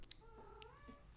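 A pet cat gives a single drawn-out meow that rises and falls in pitch, soft and close in a quiet indoor room, with faint clicks around it.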